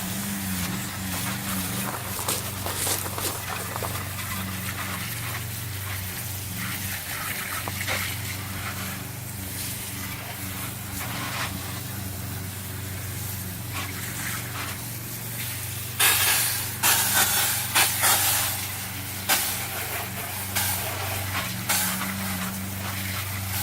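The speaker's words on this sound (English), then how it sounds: "I'm only using my garden hose today, not my pressure washer. So let's give it a rinse." A garden hose rinsing a car wheel after it is treated with Meguiar's Ultimate All Wheel Cleaner, a steady hiss of spraying water that grows louder and splashier toward the end, alone without talk.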